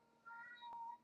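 A pet cat, a male, lets out a faint, drawn-out howling meow indoors, a thin wavering yowl that rises and then trails off over about a second with no talking.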